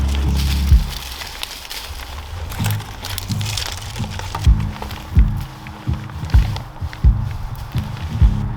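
Dry wood kindling is gathered and snapped in the woods for a campfire, with repeated cracking breaks, rustling twigs and crunching footsteps on leaf litter, close by.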